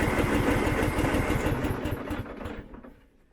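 A lawn mower's small petrol engine runs with a rapid, rough mechanical chatter, loud and close, then loses power and dies away over the last second or so.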